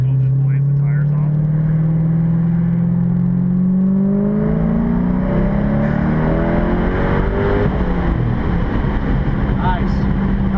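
Twin-turbo 2010 Corvette Grand Sport pulling on low boost, engine note rising steadily in pitch through the revs from inside the cabin, loud and continuous with a whirring edge.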